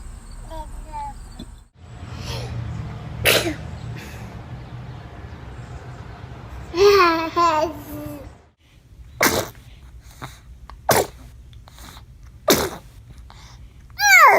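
Babies sneeze several times in quick succession, sharp close bursts spread through the clip, with adults talking and cooing around them between the sneezes.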